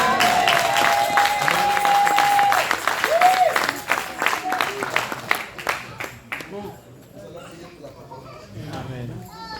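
A church congregation applauds in a dense wave of clapping with a sustained tone ringing underneath, then the clapping thins out and trails off while voices carry on.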